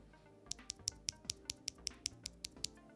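Sharp, bright clacks from MBK keycaps bottoming out against mechanical keyboard switches on a Corne split keyboard with a steel plate, about a dozen evenly paced strokes heard up close, with no voices.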